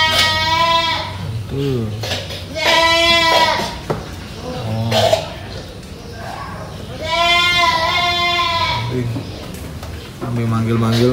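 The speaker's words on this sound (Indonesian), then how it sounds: "Lagi makan ya kambingnya. Ah, ini kambingnya." Goats penned at an Indonesian sacrificial-livestock seller let out several loud, close bleats in bursts, one after another, while people talk over and between them.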